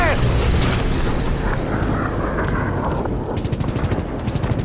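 Dense anti-aircraft fire and explosions in the Call of Duty video game, a continuous loud roar of booms and gunfire with rapid bursts toward the end and shouting voices mixed in.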